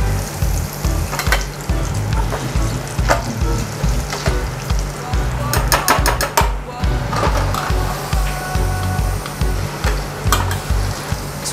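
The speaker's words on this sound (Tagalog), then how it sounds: "mainit na yung oil natin. So ilagay lang natin itong ating gizzard na may coating." Coated chicken gizzards frying in hot oil, with a dense continuous crackling sizzle, loud and close, broken by a short run of quick rattling clicks from stirring.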